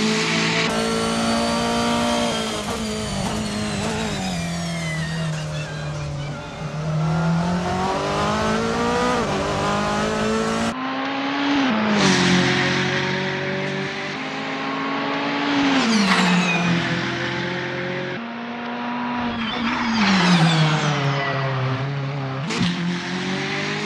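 Engine of a Volkswagen Scirocco silhouette race car in the Assetto Corsa racing game, loud and continuous, with rising revs and sharp drops at each gear shift and some tire squeal.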